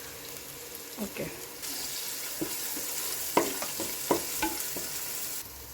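Crushed ginger and garlic hit a pan of sautéing shallots and onion for mutton curry, giving a soft sizzle with intermittent scraping stir strokes, and a brief spoken word.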